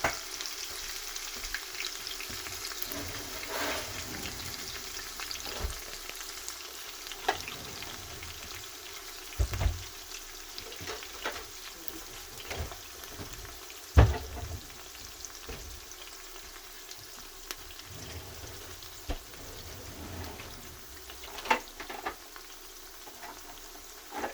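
Chopped onion fries in a pan for bean cooking, a steady broadband sizzle running throughout with occasional stirring scrapes and small pops; no one talks.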